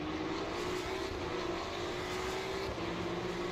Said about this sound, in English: So let's listen to the engine first.